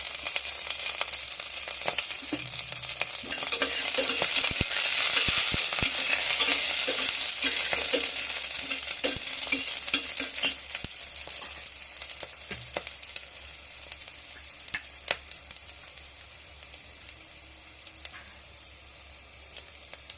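Urad dal, green chili and ginger fry in hot oil in a pan for wheat rava upma, giving a steady close sizzle with bursts of crackle and stirring clatter, loudest early then easing off.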